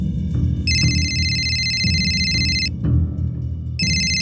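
A phone ringtone sounds in two bursts of bright electronic trilling, separated by a short pause, over a low background rumble.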